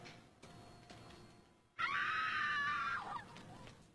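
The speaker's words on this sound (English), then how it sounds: "some sound of screaming" A scream sound effect bursts in partway through, loud and shrill for over a second, then fades into a low background rumble, with no talk.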